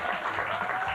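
A small round of applause from an audience at a competition after a finalist's performance, a brief steady patter of clapping.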